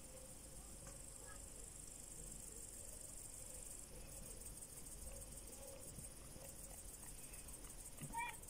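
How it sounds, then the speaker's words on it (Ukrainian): Grasshoppers chirping on a foggy evening at a horse-riding base, a faint continuous high-pitched trill with a soft wind-like background and occasional small knocks. "Стрекочуть коники"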